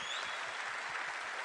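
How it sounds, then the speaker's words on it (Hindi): Audience applause at a business mentoring event, a dense, steady wash of clapping that holds at an even level throughout. "जोरदार ताली दोस्तों"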